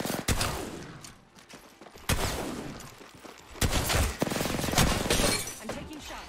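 Gunfire in an online shooter game crackles in repeated loud bursts, several volleys spread across the span, with sharp impacts and rattling shots close by.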